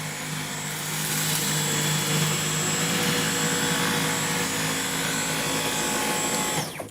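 A Dyson V11 cordless vacuum cleaner runs on its low setting with a steady, close whooshing whine and a faint high tone, holding even for several seconds before cutting off.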